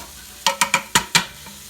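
Sausage chunks in a pressure cooker, being made into homemade spaghetti, give five quick close scraping stirs with brief sizzles, evenly spaced then pausing, alone without talk.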